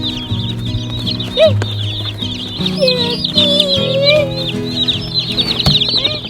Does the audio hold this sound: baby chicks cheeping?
yes